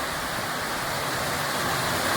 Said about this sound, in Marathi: जबरदस्त पुरा जम के लग रहा है बारिश